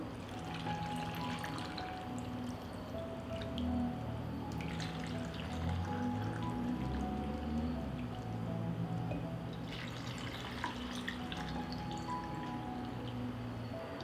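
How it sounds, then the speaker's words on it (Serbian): Water pours and trickles steadily into glass jars, a continuous splashing flow with faint drips, fairly quiet and without voices. "Tegle ću napuniti sa hladnom vodom."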